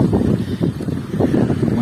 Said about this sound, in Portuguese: água agitada, vento sul, maré alta, é assim mesmo